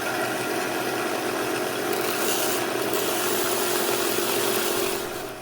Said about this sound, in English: I didn't want to miter the plexiglass before I put it on the board, so I did this with a sander afterwards.